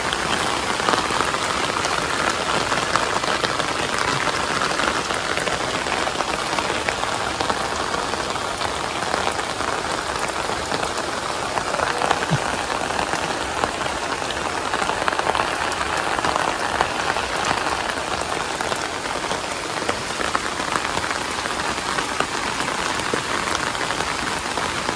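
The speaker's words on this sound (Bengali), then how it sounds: "প্রচুর বৃষ্টি হয়েছে বাপ রে।" Heavy monsoon rain falling on a village home, a dense, even roar of drops pattering on surfaces that continues unbroken and fairly loud, with no voices.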